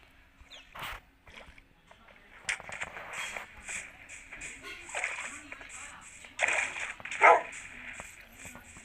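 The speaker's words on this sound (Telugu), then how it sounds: "మనకు కుక్కలు వస్తున్నాయి" Dogs bark a few times at a distance in Minecraft, in short scattered bursts over a soft background, with a voice talking now and then.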